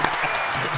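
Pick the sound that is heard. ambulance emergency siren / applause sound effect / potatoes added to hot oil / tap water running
applause sound effect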